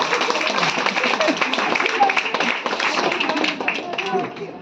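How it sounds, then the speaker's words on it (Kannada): Steady applause from an audience at a Women's Day award ceremony, dense clapping throughout, with a voice faintly audible beneath it. "ಎಲ್ಲ ಸಾಧಕಿಯರಿಗೆ ದೊಡ್ಡ ಚಪ್ಪಾಳೆ"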